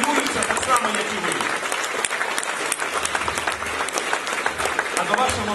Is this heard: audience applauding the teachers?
yes